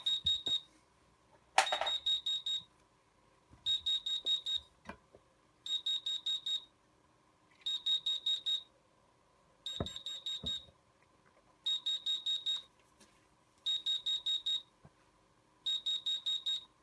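A type 4 fire alarm with two loops sounds during a test, giving repeated bursts of high, pulsing beeps about every two seconds, each burst lasting roughly a second, with a few faint clicks and knocks between them.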